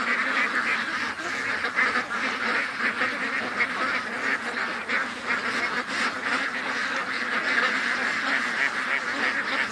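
A crowd of ducks in a pen honking and quacking continuously, loud and near, overlapping calls with no pauses.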